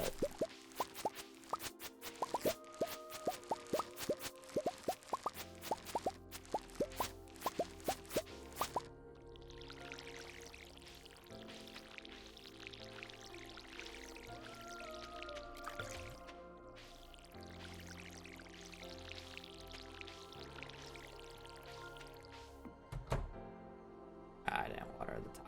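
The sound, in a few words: watering crops with the watering can, from a video game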